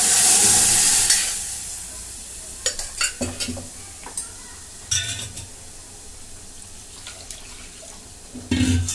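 Cooked dal is poured into a hot tempering of turmeric and chilies, giving a loud, bright burst of sizzling that fades within about a second. A spoon then scrapes and clinks against the pot in scattered strokes.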